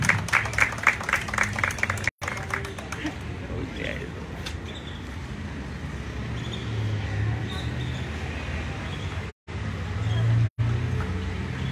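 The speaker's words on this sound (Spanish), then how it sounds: "Fuerte los aplausos, por favor." A crowd applauds at the launch of a house-to-house influenza vaccination campaign, starting with a burst of rapid clapping that fades into a broad, noisy wash, with voices talking throughout.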